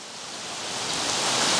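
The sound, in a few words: rain falling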